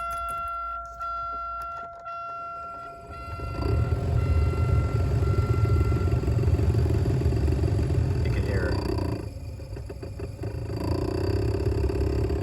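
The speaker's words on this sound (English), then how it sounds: "you'd rather not have your blower motor sounding like that, right?" A failing blower motor in an Oldsmobile Intrigue starts up after the key is turned, settling into a loud, rough, continuous whirring drone with rattly undertones that runs steadily, close and alone.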